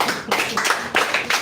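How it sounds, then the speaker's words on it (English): An audience at an entrepreneurship and mentorship academy session claps briefly, a short burst of several overlapping hand claps at moderate loudness. "clap yourself, you guys enjoy it"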